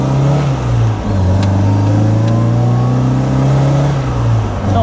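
A car drives along a road on a fine evening, its engine humming steadily with gradual rises and falls in pitch as it accelerates and shifts, heard from inside at close range, with no talk.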